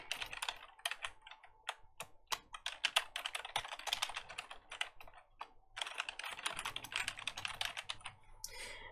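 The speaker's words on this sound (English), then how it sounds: "So I can type in some keywords here." Keywords are typed on a computer keyboard in fast, steady runs of close, crisp key clicks with short pauses between bursts.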